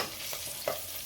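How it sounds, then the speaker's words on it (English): Meat frying in oil for pilau gives a faint, low hiss of sizzling with a couple of soft stirring scrapes, brief and without talk. "So I'm frying it in oil."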